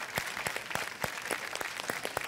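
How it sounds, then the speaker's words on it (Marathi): Audience applause at a Marathi TV show, a steady patter of many hands clapping at moderate distance, fairly soft and even throughout with no voices. "त्यांच्यासाठी जोरदार टाळ्या."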